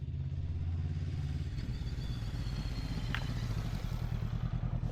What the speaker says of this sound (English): I feel like there's a bike coming.